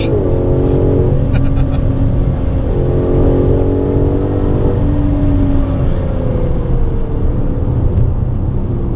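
A 2017 Aston Martin DB11 with a turbocharged engine revs in a steady, loud, close drone, its pitch rising and falling across several swells with no one talking over it.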